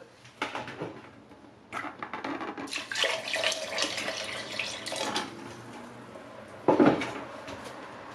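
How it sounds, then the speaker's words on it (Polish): Water is poured from a tap into a pot of tiger nuts with sugar, prepared as carp bait, giving bursts of splashing and running water between pauses, with a louder splash and clunk near the end. "Teraz jeszcze dolejemy wody."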